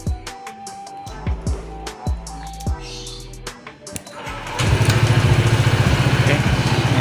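A Honda PCX 160 scooter with idle stop is started, with a few clicks and thumps before the engine catches and then idles at a steady pulsing putter. Someone talks over the opening.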